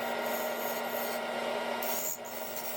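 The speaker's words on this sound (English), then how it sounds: "Switched over to the bowl gouge here and taking some material off" A bowl gouge on a lathe shaves resin and dense Purple Heart wood, giving a continuous rough, hissing scrape at close range with a low hum beneath and a slight drop near the end.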